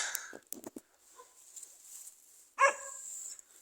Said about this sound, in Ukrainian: Мій дружок на когось там гавкає.